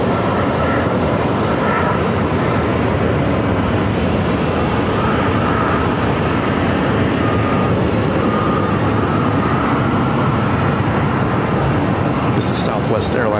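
A Southwest Airlines Boeing 737-700 jet airliner arrives at Phoenix airport, its broad, steady engine roar filling the whole stretch at close range and loud throughout.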